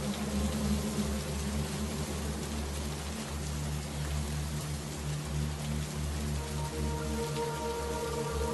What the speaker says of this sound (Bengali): সেই কখন থেকে বৃষ্টি শুরু হয়েছে, এখনো থামছে না।